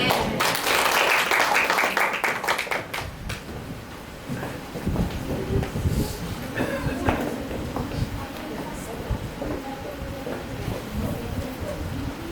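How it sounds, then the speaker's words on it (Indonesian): Church audience at a Christmas event claps for a children's Sunday school liturgy, a burst of loud applause in the opening seconds that thins into scattered claps, shuffling and murmuring. "Mari kita berikan tepuk tangan untuk liturgi anak sekolah minggu."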